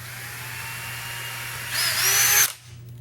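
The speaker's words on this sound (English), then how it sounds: "Grab our 1/8 inch drill bit," A power drill with a 1/8 inch bit whirs steadily against a low hum, rising to a louder, higher whine for a moment as it bites into a hula hoop, then cuts off.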